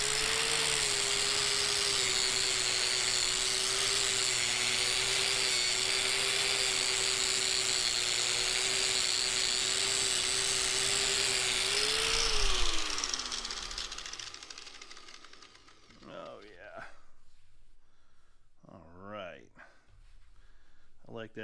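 A brand new budget angle grinder fitted with a wire brush scours a charred shou sugi ban wooden salad bowl, a loud steady whine with harsh scraping for about twelve seconds before spinning down, followed by brief faint clatter.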